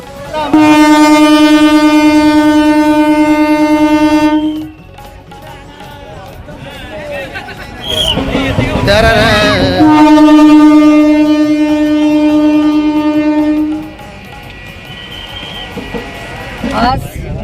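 The Badnera-Nashik MEMU train at Kajgaon station sounds two loud, long, steady horn blasts close by, with a rumbling pause between them and fading train noise after.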